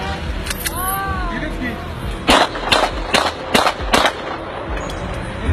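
Several gunshots fired at a portrait hanging on a wall, five sharp cracks in quick succession amid background crowd noise and talking.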